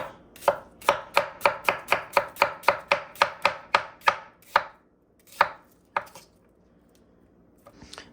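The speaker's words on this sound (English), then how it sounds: "the first thing you want to do is cut up your onions" A knife slicing onions on a cutting board: a quick, even run of about fifteen sharp chops, then a few slower, spaced cuts before going quiet, close and clear.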